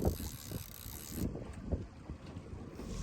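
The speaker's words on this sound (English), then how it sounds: "Quite a bit of wind today." Wind buffeting a microphone aboard a net fishing boat in Astoria, Oregon, a low rumbling gust noise with brief flaps and knocks, close and continuous, no talking.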